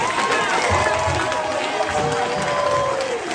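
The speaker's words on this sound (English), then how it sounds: "Brothers and sisters, clap it up for the ancestors." An audience at a gathering claps and cheers in a dense, continuous wash, with voices calling out over the noise throughout.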